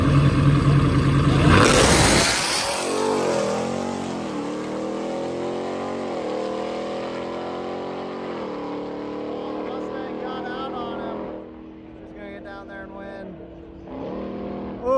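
A drag racing truck and car launch side by side down the strip, a loud burst followed by strained engines climbing through the gears and fading into the distance, with an announcer talking over the noise.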